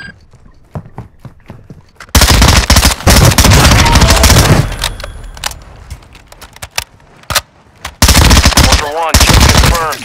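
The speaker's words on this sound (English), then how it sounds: "You are taking effective fire." Gunfire in Call of Duty, a loud close burst of rapid automatic fire after a run of sharp single shots, then scattered individual shots and another sustained burst, with brief in-game radio chatter.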